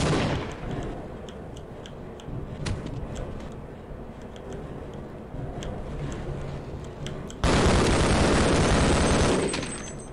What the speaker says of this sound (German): Hier fliegt eine Granate hoch.